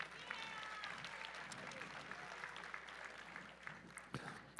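Audience applause for powerlifting medal winners at a USA Powerlifting meet, steady crowd clapping of moderate loudness that holds throughout with murmured voices mixed in.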